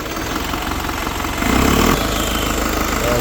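An Isuzu Crosswind diesel engine idles steadily just after starting, with its intake open after turbo and intake manifold cleaning, a loud, close, continuous rumble that swells briefly midway.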